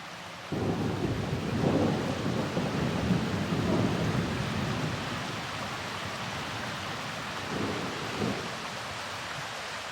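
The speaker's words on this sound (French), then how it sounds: "Nuages et pluie." Heavy monsoon rain pours steadily in Meghalaya, India, with low rumbling thunder rolling through in a couple of swells before easing back into constant downpour hiss.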